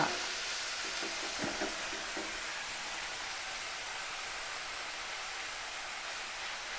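Chicken frying in a pan while it is stirred, a steady close hiss of sizzling oil broken by a few scraping stirs early on, with no voices over it.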